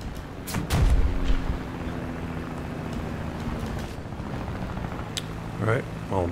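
Bombs released from a B-18A bomber in War Thunder, a couple of heavy low booms among steady engine drone and wind, with scattered sharp gunfire cracks.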